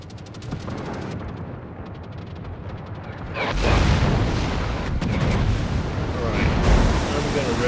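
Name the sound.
anti-aircraft fire at torpedo bombers in World of Warships video game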